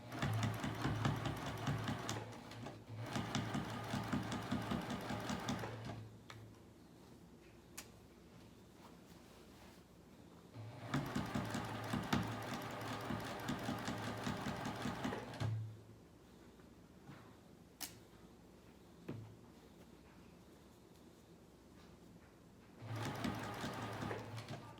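A sewing machine stitching over a garment pocket whirs in three sustained runs of several seconds each, separated by quiet pauses with occasional faint clicks; the whole thing is soft and fairly distant.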